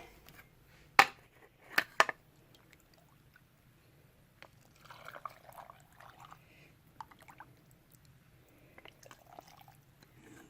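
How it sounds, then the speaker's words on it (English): Faint hot water trickling and pouring into a canning jar of potatoes, with a few sharp clinks near the start and soft splashy sounds continuing quietly afterward. "I'm going to fill the jar with hot water."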